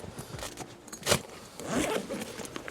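A zip on a tool bag is pulled open with a quick rasping burst near the start, followed by a longer scraping rustle of fabric and handling, close by and fairly quiet.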